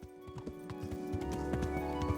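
A horse's hooves clip-clop in the medieval video game Kingdom Come: Deliverance, making a quiet, steady and evenly paced trotting rhythm throughout.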